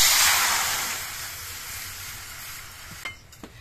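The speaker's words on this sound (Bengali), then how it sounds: "এবার কড়াইতে আমি অল্প পরিমাণে জল দিয়ে দিচ্ছি।" A small splash of water hits a hot wok and bursts into a loud, close hiss of sizzling that steadily fades, followed by a couple of light metallic clinks.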